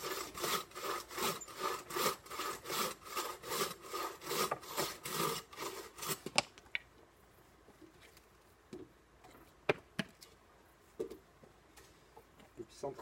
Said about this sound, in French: s'entraîner à scier des deux mains